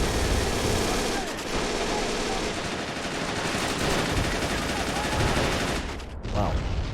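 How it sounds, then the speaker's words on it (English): Dense weapons fire and artillery hits from Men of War: Assault Squad, a World War II Stalingrad battle, roar continuously as a thick barrage of overlapping shots and blasts with a few louder impacts. "lots of weapons firing off. And good artillery hitting."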